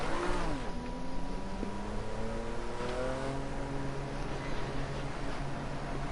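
A Lotus Type 98T turbocharged race car engine in a racing video game revs steadily, its pitch climbing and shifting through gears in a loud, continuous drone with no voices.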